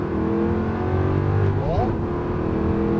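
An Aston Martin V8 accelerates hard around the du Laquais circuit, heard from inside the cockpit as a loud, continuous engine roar whose pitch rises and sweeps through a gear change, with a voice talking over it.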